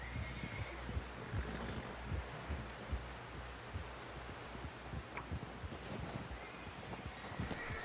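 Horse hooves clip-clop at a steady walking pace in the video game Red Dead Redemption 2. The rhythmic hoofbeats are fairly faint under a constant windy outdoor ambience.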